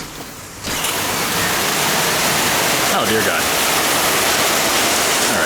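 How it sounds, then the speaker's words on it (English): Heavy rain slams down on a metal tin roof, a deafening, steady roar that surges up after a door opens, with someone speaking briefly over it. "the water was just slamming on all of that metal"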